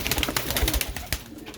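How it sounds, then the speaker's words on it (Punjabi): Sialkoti black-faced pigeons cooing close by, soft low repeated coos with light rustling and faint pecking around them. "ਦੇਖੋ ਤੁਰਦੇ ਫਿਰਦੇ ਕਬੂਤਰ, ਬਹੁਤ ਹੀ ਆਊਟ ਕਲਾਸ ਵੱਡੇ ਕਬੂਤਰ ਨੇ"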